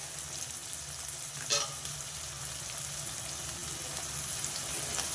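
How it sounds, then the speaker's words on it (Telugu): Onions fry with salt in a pan for a chicken gravy curry, a steady close hiss of oil with one brief louder crackle near the start, no talking. "ఈ ఉల్లిపాయలు కొంచెం ఈ కూరకి ఎర్రగా ఏగితేనే బాగుంటాయి ఇది వేగటం కోసం కొంచెం ఉప్పు వేస్తా"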